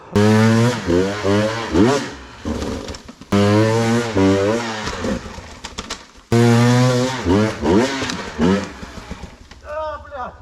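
A 2020 Husqvarna TE 300i enduro motorcycle engine revs hard in repeated rising bursts, loud and close, with someone shouting over the engine.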